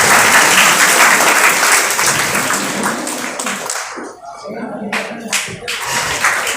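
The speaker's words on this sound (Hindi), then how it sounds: "जोरदार तालियां बच्चों।" Loud, dense applause from a crowd of children at a student award ceremony, sustained for several seconds and then thinning into scattered claps, with a voice speaking briefly as it fades.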